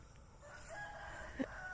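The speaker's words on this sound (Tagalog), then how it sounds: "Maraming manok doon, banda." Faint, distant chickens clucking on a farm, with a brief louder squawk near the end over low background noise.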